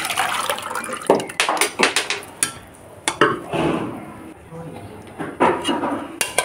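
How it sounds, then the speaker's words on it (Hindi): Cooked lentils are scraped and spooned from one pot into a small pot in a home kitchen, with repeated clinking, scraping metal utensil sounds and wet plops in an uneven rhythm. "छोटे बर्तन में डाल लेते हैं।"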